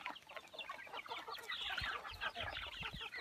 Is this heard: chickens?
yes